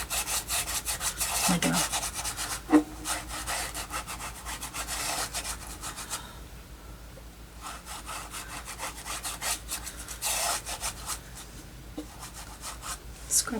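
A brush rubs acrylic paint onto a canvas while painting a northern lights scene, giving repeated dry scratchy strokes in bursts with short pauses, close and fairly loud, with a brief spoken phrase.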